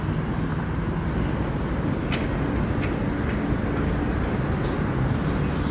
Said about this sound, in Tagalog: Busy na din dito. Dami ng sasakyan.